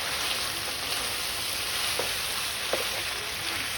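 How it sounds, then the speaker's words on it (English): Beef steak and sauce in a pot give off a faint, even bubbling hiss with a couple of small pops, and no voices. "Once you're gonna hear that simmer die down a little bit"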